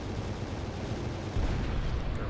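Kinetic cannons fire in the space strategy game Final Theory, a dense low rumbling barrage of shots that grows heavier partway through, steady and continuous without talk.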